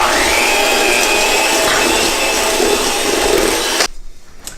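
Chocolate chip cookie batter being mixed with eggs, most likely by an electric mixer, runs as a loud, steady whirring drone for nearly four seconds and then cuts off abruptly, leaving quieter room sound.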